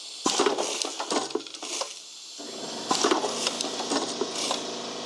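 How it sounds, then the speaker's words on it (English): Pedal-operated grommet machine pressing with sharp clanks and thuds, then an air compressor kicking on and running as a steady hum, all close by with no talk. "That's the compressor that's kicked on."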